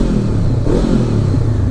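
Honda CB500X motorcycle from 2016 fitted with a loud aftermarket exhaust, revving steadily and up close, a continuous throaty engine drone with no speech over it.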